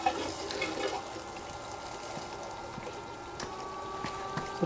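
Water flows steadily from a 12-volt 36-watt bilge pump through the valves of a five-gallon bucket system, a continuous close rushing and trickling with a faint hum and occasional small clicks.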